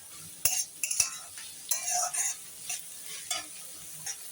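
Green beans and spring onions being stir-fried for fried rice, a spatula clattering and scraping against the pan in quick irregular strokes over a soft sizzle, with no talking.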